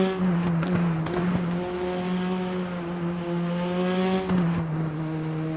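A Praga race car laps Bilsterberg in a racing game, its engine a steady harmonic whine that dips and rises with throttle modulation over the hill crests, loud and alone with no talk.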